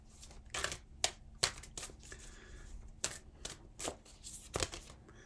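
Oracle cards being shuffled by hand in a quiet room, with a series of crisp riffling bursts spaced irregularly over several seconds, close and moderately loud, and no talking.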